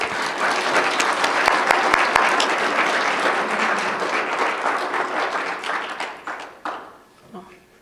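Sustained audience applause fills the room for about six seconds, a dense wash of clapping that gradually thins and fades out near the end, welcoming an artist at a residency talk.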